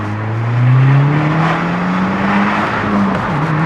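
A tuned manual Audi S3 accelerating hard, engine note climbing steadily through the revs, loud and close from inside the cabin, then dipping briefly at a gear change before rising again.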